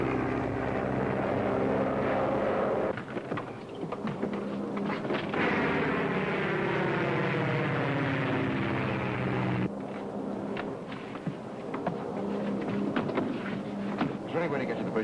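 In a 1942 radio drama, the engines of the Bombay Clipper flying boat drone loudly and steadily as it sets down, a continuous roar with shifting pitch under voices that talk over it.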